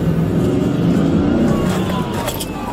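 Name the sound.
car reversing into a police trooper's car and being rammed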